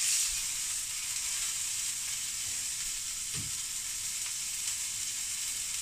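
A sponge fries in a pan with a steady, even sizzle and hiss that runs throughout, broken by one soft low thump partway through.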